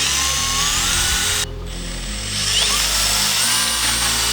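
An impact driver drives a screw into the wood of a DIY planter box, a loud, steady mechanical whine that breaks off briefly and then carries on at full strength.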